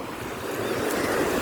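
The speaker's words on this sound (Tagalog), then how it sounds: "Sa dagat tayo, nasa dagat." Sea waves wash steadily onto a beach, a continuous broadband rush of surf with wind noise on the microphone, rising slightly in loudness, with no talking.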